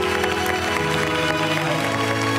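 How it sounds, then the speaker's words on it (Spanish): Studio audience at the El Hormiguero television show in Spain applauding, a dense continuous wash of clapping under sustained music and crowd noise. "Por favor, me merezco un aplauso"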